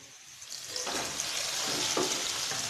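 Steady sizzling and crackling of frying in a pan, a continuous hiss with occasional pops, fairly close.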